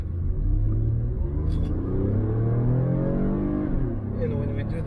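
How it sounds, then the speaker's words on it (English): A V6 luxury car engine accelerating, a steady close rumble with rising harmonic sweeps as it picks up speed, heard under a person talking. "it has plenty of power to pick up and accelerate"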